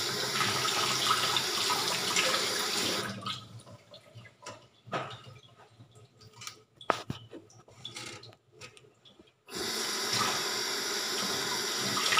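Tap water runs steadily into a sink while tofu is rinsed, loud and continuous at first, then breaking into quieter splashes and drips before the stream resumes at full force; no talk.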